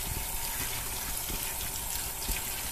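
Water drips and trickles steadily off freshly washed plantain leaves, a continuous close wash of liquid noise with faint patters, no speech.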